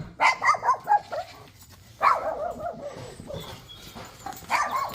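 A dog barks close by in three quick bursts: a run of sharp, rapid barks at the start, another near the middle and a final one at the end, with no one talking.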